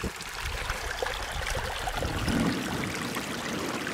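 Water rushing over rocks in a driveway drainage culvert, a steady close splashing gurgle that swells slightly midway, with no voices.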